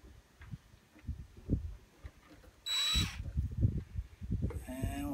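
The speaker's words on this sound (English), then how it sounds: "I'm gonna pre-drill this hole here so that the hook can go straight in." A power drill pre-drills a hook hole in a slick wooden walking staff, giving a brief loud whine around the middle followed by a second shorter burst, over faint handling knocks.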